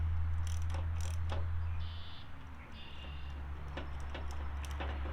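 Crank of a Trac Seats suspension adjuster on a Kubota Z-421 mower seat being wound back down, a soft ratcheting, mechanical clicking over a steady low hum, with a few scattered sharper ticks.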